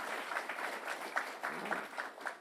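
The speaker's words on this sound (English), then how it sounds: "let's give a round of applause to Michael Dowling" Audience claps for a hospital system president at a governor's Long Island economic event, a moderate round of applause with distinct clustered claps pulsing steadily, fairly close.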